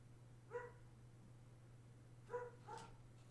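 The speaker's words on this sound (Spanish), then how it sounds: "eso que suena al fondo son mis perras volviéndose locas" Three short dog barks, faint and distant, two close together near the end, over a steady low electrical hum.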